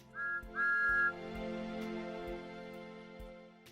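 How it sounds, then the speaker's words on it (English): Thomas the Tank Engine, an animated steam locomotive, gives two bright, close whistle blasts, a short one then a longer one, over background music. "which makes Thomas whistle in delight."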